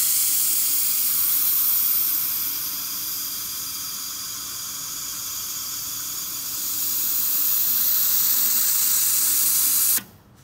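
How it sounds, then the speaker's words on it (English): Compressed air blasting from an SPCT 100A spark plug cleaner, a steady loud hiss lasting about ten seconds that swells, dips slightly, then cuts off abruptly. "we're going to go ahead and do the air cleaner for 1 full rotation"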